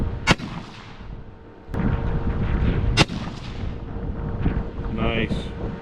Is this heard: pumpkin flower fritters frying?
no